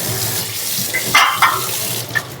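Running tap water splashes as an idli steamer pot is washed in a kitchen, a loud, steady close gush with a few brief clinks and splashes of the metal vessel, and no talking.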